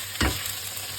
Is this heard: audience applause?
no